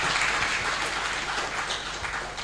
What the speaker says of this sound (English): Please clap for our board.